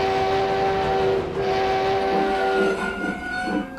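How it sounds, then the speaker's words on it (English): Cartoon steam engines toot their whistles together, sustained tonal whistle blasts over a rumbling train background, nearby and fairly loud. "Together, Thomas and Percy tooted their best friend whistles."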